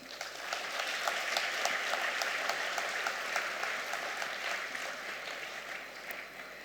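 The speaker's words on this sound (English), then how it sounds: "Please give them a big round of applause." Steady applause from an audience at a college graduation convocation, honoring the graduates' parents; dense, even clapping that holds at moderate level throughout with no speech.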